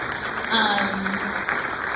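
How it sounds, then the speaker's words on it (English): A theater audience at a Q&A applauds after an inspiring answer, a steady wash of clapping from many hands at moderate volume, with a voice briefly audible over it. "Round of applause"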